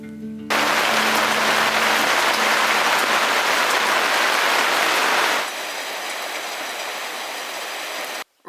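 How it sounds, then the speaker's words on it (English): Steady rain falls outdoors in a garden, a dense continuous hiss that drops to a softer, lighter patter partway through before cutting off. "It's starting to rain now"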